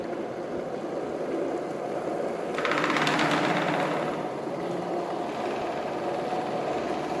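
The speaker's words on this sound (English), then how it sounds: "The motor is running with a high speed." An axial-radial BLDC motor runs with a continuous mechanical whirr, swelling into a louder, rougher buzz midway as it speeds up, then settling back to a steady hum.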